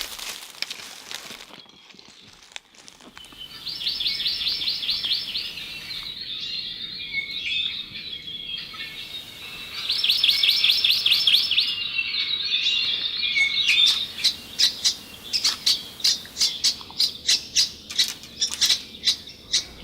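Wild birds caught in nylon mist nets give repeated harsh squawks and rapid chattering calls. The calls come close and loud in bursts, with rustling between them and sharp clicking flutters near the end.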